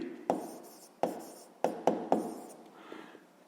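A pen scratches a fraction onto paper in a few quick separate strokes, close and soft in a quiet room.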